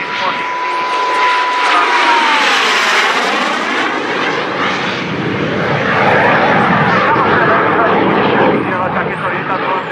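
A Czechoslovak L-29 jet aircraft roars past at an air show at Dubová, a loud rising and falling engine whine with a Doppler sweep, while a voice talks over it.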